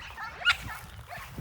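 Dogs in a goat yard giving a single short bark amid faint yips and whimpers, with low rustling and shuffling underneath.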